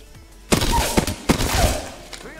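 Gunfire in a first-person shooter video game: a few sharp shots in quick succession, close and loud over a low background hum, with faint game noises between them.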